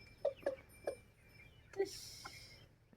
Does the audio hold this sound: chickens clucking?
yes